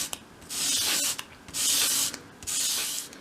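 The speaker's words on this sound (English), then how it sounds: "45-degree angle against your sandpaper and sweep it towards you." Small wooden 1/12th scale dollhouse bedside cabinet piece swept across sandpaper at an angle, three steady rasping strokes close up and fairly quiet, with short pauses between them.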